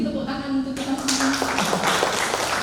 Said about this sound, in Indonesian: Mungkin tepuk tangan untuk kita semua.